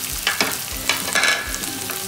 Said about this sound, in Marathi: आपण त्याच्यामध्ये 4 कांदे जे चिरून घेतलेले तसे त्यामध्ये ते टाकणार आहे